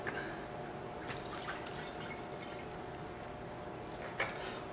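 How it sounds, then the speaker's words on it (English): Water is added to a glass tank in a quiet room, giving faint trickling with a few soft drips and splashes. "What do you think will happen to the so-called reflected and transmitted beams as I add water to the tank?"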